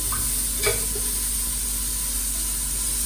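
Cooking oil added over chopped onion in a pan for beef karahi gosht, one brief clink and splash followed by a steady soft sizzling hiss.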